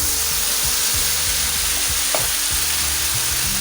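Okra hits a hot pan and sizzles in a loud, steady, close frying hiss, with a faint clink partway through.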